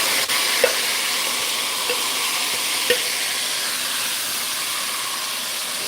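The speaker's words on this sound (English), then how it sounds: "Gonna hear that sizzle again" Seasoning sizzling in a pot of brown stew chicken as it is stirred, a steady loud hiss with a few faint clinks of the spoon against the pot.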